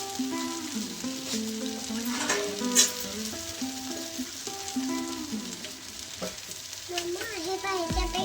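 Potato slices fry in oil in a kadhai for crispy batatyache kaap, with a steady close sizzle throughout, overlaid by music.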